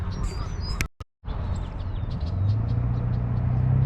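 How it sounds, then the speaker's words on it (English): Two red-winged blackbirds call over tall reeds and grass near a boardwalk, their chirps sounding above a steady rumble of passing traffic and wind, with a brief dropout in between. "Red-winged blackbirds flying around there, 2 of them."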